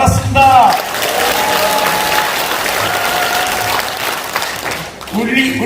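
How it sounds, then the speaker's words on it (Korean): An audience at a Garak clan association extraordinary general meeting applauds the arrival of People Power Party leader Kim Gi-hyeon, loud, steady clapping from a sizable crowd, with voices and a brief tonal sound near the start and end. "여러분 박수로 환영해 주시기 바랍니다"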